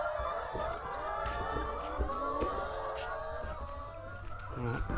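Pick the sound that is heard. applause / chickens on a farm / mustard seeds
chickens on a farm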